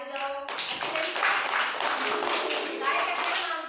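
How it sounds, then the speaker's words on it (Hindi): A group of children claps together in a classroom activity, a dense burst of rapid, overlapping claps starting abruptly after a brief moment of talk and continuing loud and steady to the end. "सभी बच्चे ताली बजाओ।"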